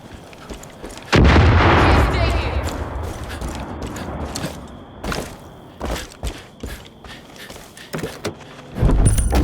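Aircraft strafing gunfire in Far Cry 5 opens with a loud, sustained burst, then breaks into scattered sharp shots and mechanical clanks before another heavy burst closes.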